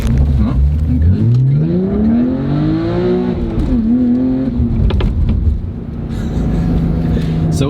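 Modded BMW 328i rolling over speed bumps: a loud engine rises and falls in pitch as the car climbs and eases off, with rumbling road noise and faint voices under it.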